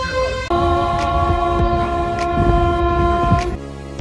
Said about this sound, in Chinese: 随着车站助理值班员手动蓝旗的不断挥动，咱们的列车也即将驶离宝鸡站